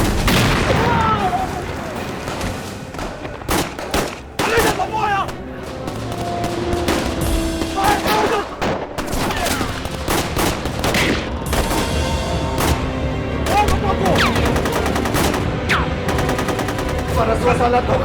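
Dense gunfire rattles through a TV serial battle scene, rapid bursts and single booming shots layered with music and shouted dialogue throughout.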